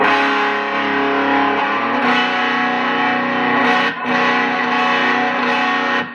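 Heavily distorted electric guitar strummed in sustained chords, thick and buzzing with effects, loud and continuous with a brief break near the end.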